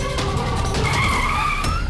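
A car skids to a stop in a dramatic scene, loud tire squeal rising and sliding in pitch over a low engine rumble for about two seconds, with no talking.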